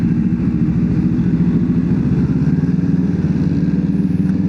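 Kawasaki Z900 motorcycle passing on a city street, a steady loud low engine drone with a rapid pulsing exhaust note, close by, with no talking.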